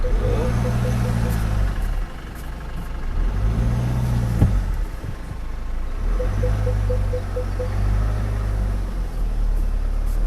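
A full-sized nine-passenger van creeps backward and pulls over, its engine droning low and steady with gentle revs rising and falling, close by, while voices speak briefly over it.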